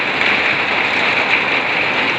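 Heavy rain pours down in Ladariya village in Rajasthan, a dense, loud, unbroken hiss of drops hitting the ground and surfaces, with no voices.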